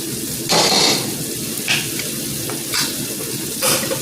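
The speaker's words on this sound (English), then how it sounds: "So now I'm gonna put the mackerel in." Mackerel goes into a hot pot with annatto-red oil, a steady loud sizzle of frying broken by several bursts of stirring and scraping against the pot.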